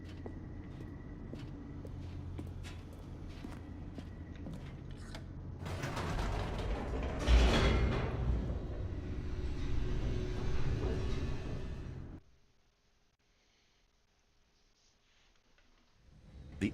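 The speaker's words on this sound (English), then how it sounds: "The elevator raced downward, plummeting towards an unknown fate." An elevator descends in the video game Stanley Parable: Ultra Deluxe, a loud grinding, creaking mechanical rumble that builds to a heavy peak, churns for several seconds, then cuts off into near silence.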